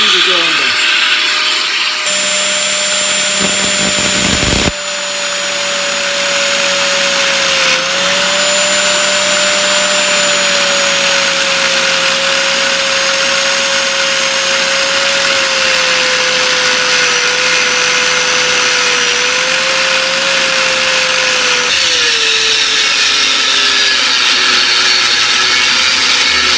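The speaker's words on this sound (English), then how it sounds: "Fire up the angle grinder." An angle grinder cutting through a corroded exhaust flange stud, a loud continuous whining grind close up that shifts slightly in pitch as it bites, running for a long stretch with a brief pause near the start.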